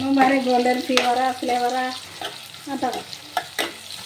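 Food sizzles and crackles in a hot pan with stirring, frying until red for sherva, a steady close frying noise throughout with some tonal sounds rising over it.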